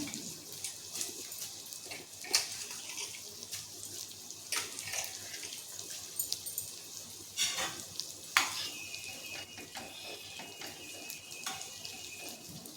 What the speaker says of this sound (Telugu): 60 degrees వచ్చేసింది. వాటర్ మంచిగా బాయిల్డ్ అవుతుంది.